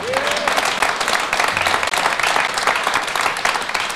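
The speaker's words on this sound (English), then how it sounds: "Applause." Audience applause during a Milton Berle stage appearance, a full steady wash of clapping from a live crowd, with a brief voice at the start.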